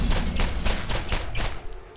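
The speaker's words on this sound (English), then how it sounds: "I am shooting at air now." Gunfire in Borderlands, a rapid string of sharp shots cracking in quick succession that fades away at the end.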